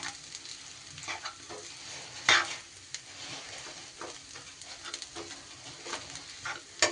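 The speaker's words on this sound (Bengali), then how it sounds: "এবার ভালো করে মিশিয়ে নিতে হবে" A spiced potato and flour dough mixture with salt and turmeric is mixed by hand, producing soft, faint squelching and rubbing strokes in an irregular rhythm, with one brief sharper knock partway through and no talking.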